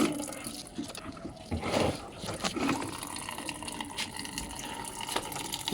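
Water runs in a garden, a steady broadband rush and splash that holds at an even level from start to finish, with a louder surge around the two-second mark.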